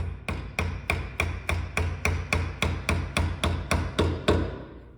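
A mallet strikes a chisel cutting a mortise in wood for Chinese/Japanese joinery, about fifteen sharp evenly spaced knocks at a brisk steady rhythm, close and clear with no talk.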